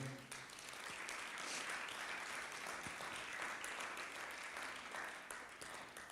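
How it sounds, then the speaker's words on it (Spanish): A church congregation at a Spanish-language sermon breaks into sustained clapping that swells and holds steady before tapering at the end. "Démosle un aplauso al Señor, por favor."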